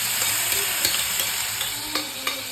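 Food fries steadily in a pan, a continuous loud sizzle with occasional light stirring clicks and scrapes throughout, no voices.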